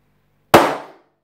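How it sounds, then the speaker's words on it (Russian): A balloon pops: a single sharp pop bursts out after a moment of silence, loud and close, then quickly fades. "Бум! Шарик лопнул."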